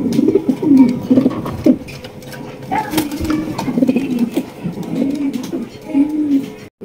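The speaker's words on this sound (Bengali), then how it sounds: "একদম বিগ সাইজের কবুতর।" Big-size pigeons, Mundian King breed, cooing repeatedly in low throaty bursts at close range, with background chatter and bustle from a pigeon market around them.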